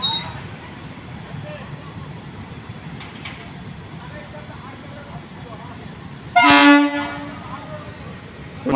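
A train horn sounds once at night on the Cooch Behar–Bamanhat rail line during emergency overhead electric line maintenance, a brief loud toot after a long stretch of low rumbling background and talk.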